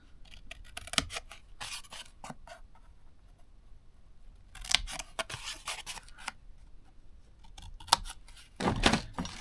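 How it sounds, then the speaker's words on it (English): Scissors snipping inward at the corners of a box for a homemade bracelet display, several crisp close cuts in irregular bursts separated by quiet pauses, with paper rustling between them. "I'm going to take the corners and I'm just going to cut inward on each end"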